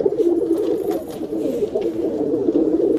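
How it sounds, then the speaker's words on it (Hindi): Paiji pigeons coo steadily and close by, a soft continuous rolling murmur with no clear breaks across the whole stretch. "आकाश भाई पैजी कबूतर है ये"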